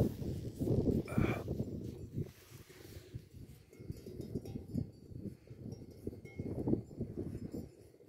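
A bell on a large sheep herd clangs intermittently near Kalin Dam in Bulgaria. The clinks come at a moderate distance, mixed with rustling and hoof shuffles from the flock.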